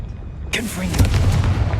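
Confringo fire spell in Hogwarts Legacy: a sudden explosive burst erupts after a brief quiet lead-in, followed by a rumbling, crackling blast tail that holds loud to the end.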